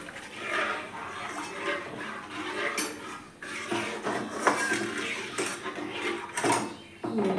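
Rice flour being stirred in a cooking pot for rice papad with curry leaves, giving repeated scraping and clattering of a utensil against the metal pot at close range, steady through the whole stretch with no talk.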